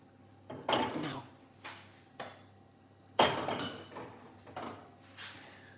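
Braised eggplant with mushroom being served onto a dish, with a series of close clinks and scrapes of utensil against pan and plate at an uneven pace, each knock followed by a short ring.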